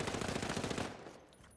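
Rapid automatic MP5 fire in a video game, a dense continuous burst of sharp shots lasting just under a second before tailing off into quiet echo, with no voices.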